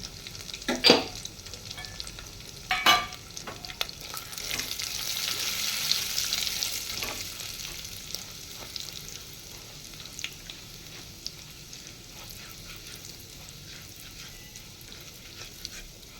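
Dry fruits and charoli roasting in hot ghee in a pan, a soft steady sizzle with a few spoon scrapes and knocks near the start as they are stirred, close and fairly quiet.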